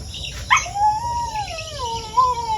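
A dog howls in long wavering tones that rise and fall, with a short yelp at the start, against a quiet outdoor background.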